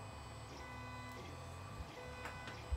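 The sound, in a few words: 3D printer with custom hotend printing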